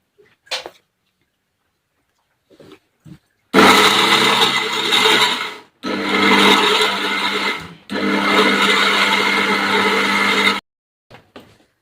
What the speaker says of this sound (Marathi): आता लसूण दळते मी या तिखटमध्ये